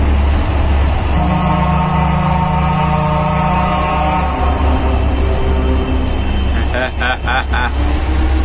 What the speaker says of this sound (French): on n'a pas fait un petit coup de klaxon dans un tunnel